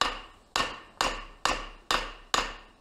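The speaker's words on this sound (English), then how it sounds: "So go ahead and hammer on in the surface and see how that feels, Thomas." A hammer strikes the face of a Harbor Freight anvil six times at an even, brisk rhythm, each blow sharp and close with a short ringing decay.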